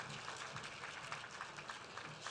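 Fairly faint crowd applause at a Teacher of the Year awards event, a continuous wash of clapping hands heard from a distance, holding steady throughout.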